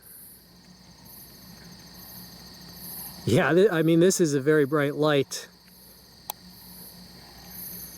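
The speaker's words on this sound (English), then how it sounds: "Yep, there's frogs over there" A steady night chorus of frogs calling near water hums along in the background, with someone talking briefly over it partway through.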